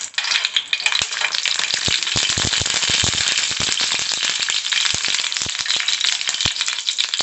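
Dried red chillies fry in hot oil with a loud, steady sizzle broken by frequent sharp crackles and pops, close up and with no voices.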